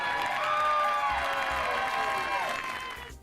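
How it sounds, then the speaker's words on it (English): A crowd applauds and cheers for high school football players, a loud continuous wash of clapping with whoops and shouts that slowly fades toward the end. "Round of applause for the young men."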